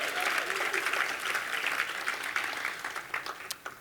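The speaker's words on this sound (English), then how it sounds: "you can give her a round of applause" Audience applause for Minneapolis City Councilwoman Andrea Jenkins, a dense, steady clapping from a crowd that carries on throughout and thins slightly toward the end with a few sharper individual claps.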